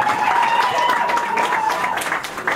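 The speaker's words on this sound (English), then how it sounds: "Grab a applause for Dylan, that was very, very brave." Crowd applause at a live comedy and magic show in a small venue, brisk continuous clapping with some voices mixed in, tapering near the end.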